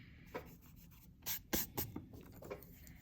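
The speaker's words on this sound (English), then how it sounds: "I'm gonna go ahead and erase just the little lines that I sketched out." Pencil sketch lines being erased from paper while drawing a color wheel: a few short, quiet rubbing strokes in separate bursts, close up, with no talking.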